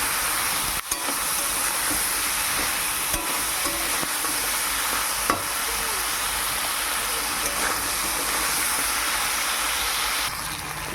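Malabar spinach with potato and dried fish fries and is stirred in a hot pan, giving a loud continuous sizzle and hiss with a few sharp scraping clicks of the utensil.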